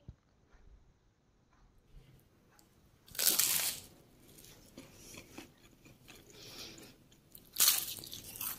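Two loud, crisp crunches of biting into fried crispy samosa kachori stand out, with quieter chewing between them, close up and without speech.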